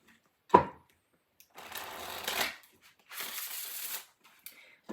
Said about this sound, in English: So let me get you a couple more shuffles.